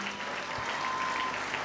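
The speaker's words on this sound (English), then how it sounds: "Let's clap for them." Audience applause at the Kenya Water Institute 35th graduation ceremony, honouring graduating students: steady, dense clapping from a large crowd throughout, with no voices over it.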